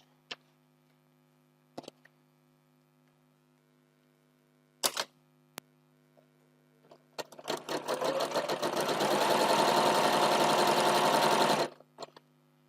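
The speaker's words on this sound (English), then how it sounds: "We're now going to come and sew down this opposite edge." A sewing machine stitches down the edge of a quilt block in one continuous run lasting about four seconds. A few isolated clicks and taps come before it. The run is close but moderate in volume over a quiet room.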